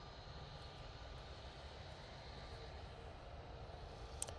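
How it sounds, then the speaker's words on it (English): An Airbus A321neo leaves Manchester Airport for Paris with a steady, faint and distant jet engine rumble that holds level throughout and carries no speech. "So here comes that A321 Neo going back to Paris."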